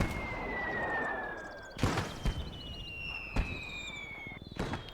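Artillery guns firing shells in a WWII game battle at Villers-Bocage, heard as several sharp booming blasts spaced a second or so apart over a steady background rumble and a high whistling tone.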